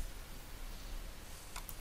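A computer mouse gives a couple of quick, quiet clicks near the end, set against a soft, steady background hiss with no talking.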